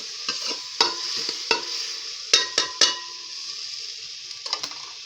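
A spoon stirs koumbi sauce in a cooking pot with a series of sharp, irregular scraping strokes against a steady sizzle, close and fairly quiet.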